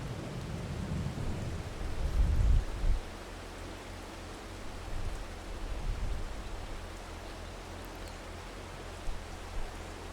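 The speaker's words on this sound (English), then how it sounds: "just to get through this freaking rain" Heavy rain pouring steadily in winter in Ohio, with a deep rumble of thunder building and peaking early, then a continuous hiss of rainfall and fainter low rolls.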